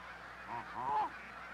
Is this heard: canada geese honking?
yes